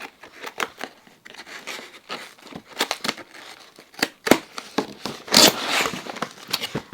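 Boxed art supplies such as coloured pencils being unpacked, with bursts of crinkling packaging and tearing, loudest around the middle of the stretch, close and alone without speech.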